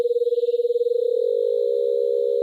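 A synthesized frequency-modulated tone made by sonifying data: a steady electronic pitch that warbles rapidly at first, then smooths into an even, sustained tone with a faint high overtone, loud and alone.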